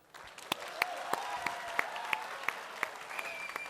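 Audience applause at a college personality contest and ramp walk event, a steady crowd clapping with sharp individual claps standing out, moderately loud and continuous throughout.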